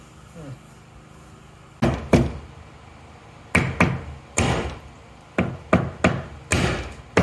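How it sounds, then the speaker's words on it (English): Hammer blows knocking out material around drilled holes in a mining shed, about a dozen sharp, loud strikes arriving in irregular pairs and clusters, close by, with low background noise and no talk. "knock it out with a hammer"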